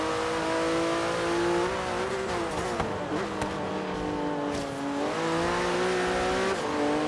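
A car in the racing game Forza Horizon 3 accelerates hard out of a corner, its engine climbing through the revs with gear shifts and rising pitch, loud and continuous, with faint tire squeal.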